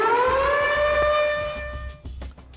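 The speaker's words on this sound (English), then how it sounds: "The City of Arlington has 48 outdoor warning sirens located throughout the city that are tested on the first Wednesday of each month." An outdoor tornado warning siren in the City of Arlington sounds loud and clear, its tone rising and then holding steady before breaking off near the end.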